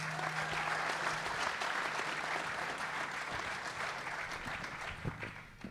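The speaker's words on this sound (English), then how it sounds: "can you give them a round of applause to have them come on out?" Audience applause welcoming panelists on stage at an RV-travel-to-Alaska panel discussion, a dense crowd clapping that stays steady for several seconds and then tapers off near the end.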